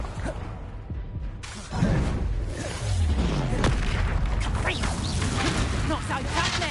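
Confringo fire spell blasts from the video game Hogwarts Legacy, several loud booming, crackling bursts with whooshing swells, continuous and dense, with a voice heard amid the din.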